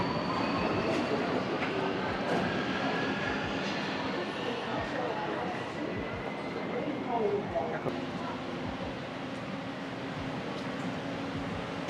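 A metro train in a Budapest subway station fills the platform with a steady, loud rolling rumble and faint wheel squeals, with indistinct voices mixed into the din.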